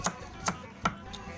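Knife chopping ingredients for a Thai som tum salad on a board: four sharp, close strikes in an even, unhurried rhythm, with quiet pauses between them and no talking.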